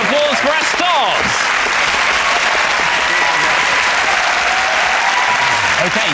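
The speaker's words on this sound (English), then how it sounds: "Please join me in a round of applause for our stars." Studio audience on a TV music panel show breaking into loud, sustained applause, a dense wash of clapping close up, with a voice briefly heard at the start.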